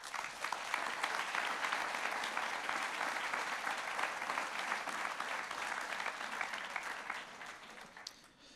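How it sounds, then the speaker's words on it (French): Sustained audience applause at an awards ceremony, a dense, steady clapping from a large crowd that holds for several seconds before tapering off at the end. "vous pouvez l'applaudir"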